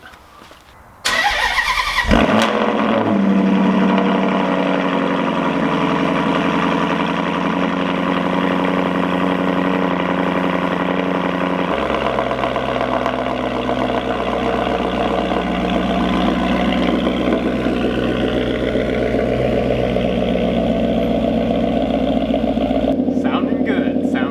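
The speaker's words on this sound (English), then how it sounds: "This is a cold start on a 2013 Maserati Granturismo MC" A 2013 Maserati GranTurismo MC V8 cold-starts, cranking and firing loudly, then settles into a deep, steady idle that drops slightly in pitch as it warms.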